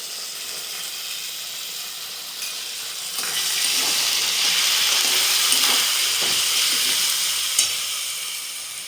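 Garlic paste and onion paste frying in a pan, a loud close hiss that swells into fuller sizzling partway through, with occasional stirring scrapes and no voices.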